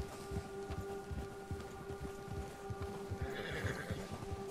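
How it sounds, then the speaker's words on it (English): A horse whinnies and neighs while its hooves clip-clop steadily along a trail in the Red Dead Redemption 2 video game, with continuous outdoor ambience underneath. "My horse is like pulling tricks right now."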